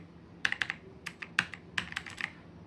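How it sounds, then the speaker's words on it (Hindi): Keys clatter on a TVS Gold mechanical keyboard in short, uneven bursts of crisp clicks, quiet and close, with small pauses between groups of strokes. "इस कीबोर्ड में हमें मैकेनिकल कीज़ मिलती हैं।"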